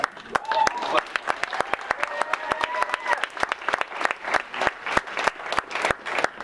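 Audience applause at a staff awards ceremony, sharp rapid claps spread through a crowd, steady and fairly close, with a voice talking faintly underneath.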